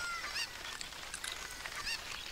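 Chicken-like squawks from The Legend of Zelda: Ocarina of Time, a few short, bright bird cries spaced through the clip over a steady game background, with no talking.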